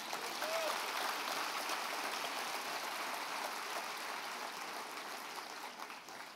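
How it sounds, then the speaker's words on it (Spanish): A church audience gives a long, even round of applause, a soft steady hiss of many clapping hands, fairly distant and fading slightly at the end. "Dele un aplauso al Rey bendito."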